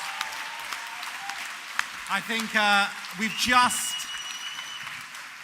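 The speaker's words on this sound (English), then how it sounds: "massive round of applause." Steady applause from an awards-ceremony audience at the British LGBT Awards fills the room, a dense patter of many hands with a voice speaking briefly over it partway through.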